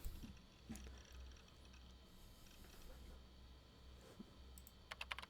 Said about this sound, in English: Oh, it's a typing scene again.